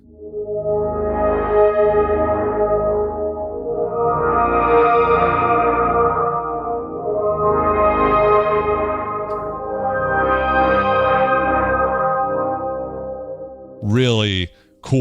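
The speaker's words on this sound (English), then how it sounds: "it's almost like an organ pad sound" A Roland JX-3P synthesizer plays a sustained organ-like pad, with dry chords swelling and fading in four long waves before a brief burst of another sound at the end.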